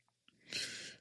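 A single sneeze, a short intake of breath followed by a sharp, breathy burst that fades quickly, heard close by.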